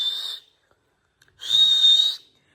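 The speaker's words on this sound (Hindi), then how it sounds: "मिट्टू देखो सीटी मारेगा" A hill parrot gives two bright, steady whistles, a short one followed after a pause by a longer, louder one, heard close and clear with no talk.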